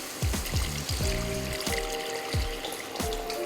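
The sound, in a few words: water being poured into soup pot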